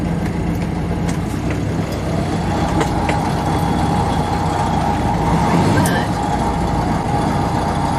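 A boat engine shifted into reverse gives a steady, loud low rumble with a churning drone throughout, plus faint clicks and a brief whine near the end.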